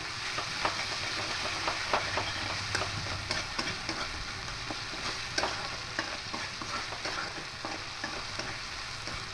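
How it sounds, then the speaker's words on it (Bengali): Onion paste frying and being stirred in a pan while its water cooks off, a steady close sizzle broken by frequent light scrapes and taps of the spoon, no talk. "আবার একটু ভালো করে মিশিয়ে নেব। পেঁয়াজের জলটা শুকিয়ে যাওয়া পর্যন্ত সেভাবে নাড়তে থাকবো।"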